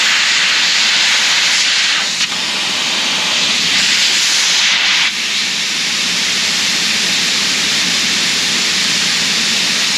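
Air hissing steadily out of a tire valve as the pressure is let down to about 45 pounds after airing up, a loud continuous hiss close by with a couple of brief dips.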